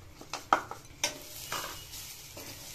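Coconut and jaggery scraped and stirred in a pan as modak filling cooks, with a few quiet clinks and soft scraping strokes over a faint sizzle, no voices.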